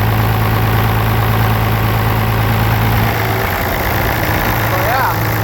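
A combine harvester's diesel engine idles with a loud, steady low rumble and a constant drone, with one injector running cold; the hum drops partway through as a few faint chirps appear.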